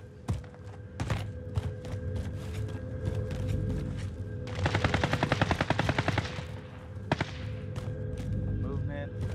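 An enemy player fires on someone in a shooter game, with sharp single gunshots early on and then a dense rapid burst of automatic fire, close and loud, with more isolated shots afterward.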